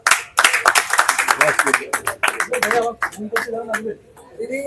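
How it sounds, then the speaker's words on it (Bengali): A burst of hand clapping at a film event at Bashundhara City mixed with people talking loudly over it, the claps fading as the speech continues. "হিরোর জন্য একটা তালি হোক"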